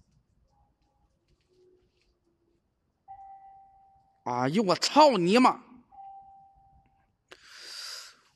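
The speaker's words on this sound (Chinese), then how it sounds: "怎么听着像钟声呢？" On an outdoor night-time ghost-hunting trip, a faint, steady bell-like ringing tone sounds twice in the distance, briefly interrupted by a man's loud, startled shout close to the microphone.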